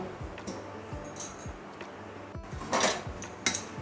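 A pot lid is handled over cooking moong dal with greens: light metallic clinks and taps, including a brighter clink near the end, heard over a low steady background hum with no voices.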